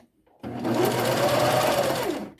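A sewing machine stitches a sweater hem, starting after a brief pause and running in one steady, close whirring burst of about two seconds before stopping.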